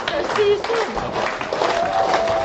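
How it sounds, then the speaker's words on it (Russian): An audience breaks into sustained applause, a dense wash of clapping that carries throughout, with voices audible amid it. "Аплодисменты!"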